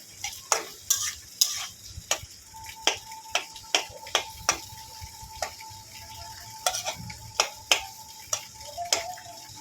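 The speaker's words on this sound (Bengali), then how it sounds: "পেঁয়াজটাকে একটু হালকা করে ভেজে নেব" Two hundred grams of onions frying lightly in a pan for chicken changezi, with a soft background sizzle and a steady rhythm of spoon clinks and scrapes as they are stirred.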